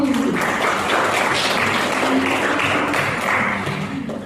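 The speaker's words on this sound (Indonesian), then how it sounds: "Aplaus untuk Marni" Sustained applause from students in a classroom during an Islamic religious education lesson, a dense steady clatter of many hands clapping throughout, fairly close and loud, with no talk over it.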